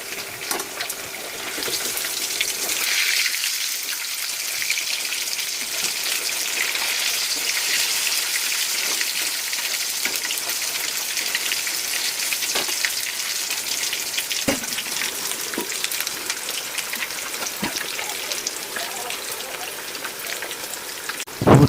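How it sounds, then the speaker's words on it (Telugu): Andhra-style fish pieces fry in a pan with a dense, continuous sizzle and crackle, close and steady, with a few sharper pops scattered through. "ప్రతి ఒక్క పీస్‌ని ఎట్లా కాలుతుందో ఏంటో మనం చూసుకొని తిప్పుకుంటా దాన్ని ఫ్రై అయితే చేసుకోవాలి"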